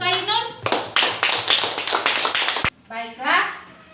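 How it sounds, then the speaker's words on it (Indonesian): A classroom bursts into applause for a student, a dense burst of many hands clapping for under two seconds, framed by children's voices talking before and after. "Tepuk tangan untuk Ainun."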